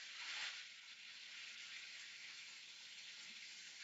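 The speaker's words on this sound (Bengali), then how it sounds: "দেখেন তেলগুলো কিভাবে ফুটতেছে" Oil bubbles and sizzles hard in a pan while rohu fish fries, giving off a dense, crackling hiss. The sound is fairly quiet and continuous, with a brief louder flare near the start and no voices.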